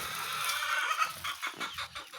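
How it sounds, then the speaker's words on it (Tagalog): A flock of chickens gathers at feeding time, giving a busy run of quick, close clucks and scratchy calls over a couple of seconds with no talking. "Ayan yung ating mga manok,"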